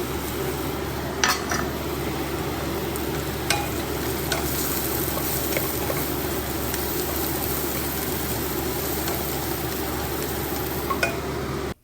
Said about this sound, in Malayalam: ഓയിലെല്ലാം ചൂടായ ശേഷം തായൊരു ചതച്ച ഇഞ്ചി പച്ചമുളക് വെളുത്തുള്ളി നമ്മൾ അതിലേക്ക് ഇടുവാണേ